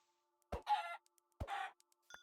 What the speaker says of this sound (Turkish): O tavuk nereye gitti?